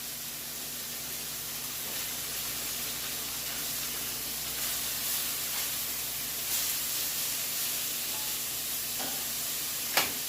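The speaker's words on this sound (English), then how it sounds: "Steak looks like it's just about ready to turn." Steak sizzles in a hot pan, a steady broad hiss of frying that continues throughout at moderate level, with a small clink near the end.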